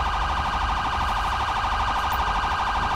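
A sheriff's 2015 Chevy Tahoe siren in GTA 5 LSPDFR wails continuously and loudly, its steady warbling tone cycling close and unbroken, with no voices over it.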